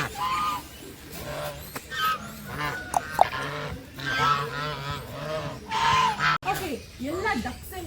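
Geese honk repeatedly at a pet sanctuary on Kanakapura Road in Bengaluru, loud nasal calls in bursts close by, mixed with other fowl, while a person talks over them at times.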